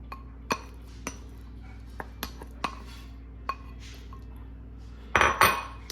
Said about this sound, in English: Add my vegetables in. Kind of stir it around.